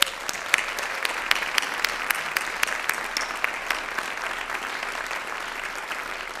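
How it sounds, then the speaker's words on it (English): Sustained applause from an audience at an evening Planned Parenthood event, a dense steady wash of many hands clapping with a few sharper claps standing out, no talk over it. "Let's have another round of applause for them"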